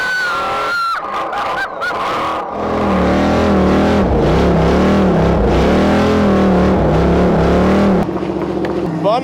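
Competition car revving hard while burning through its tires at a drifting-style event, a loud sustained engine roar with wavering pitch and squealing, crowd noise beneath, preceded by a brief honk-like squeal.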